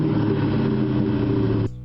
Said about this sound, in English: You get a deep, thunderous exhaust on.